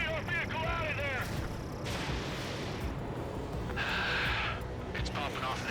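Anti-aircraft fire and combat effects in Ace Combat 7 sound as repeated booming bursts and whooshes over a dense battle din, with radio-style voices talking over the action.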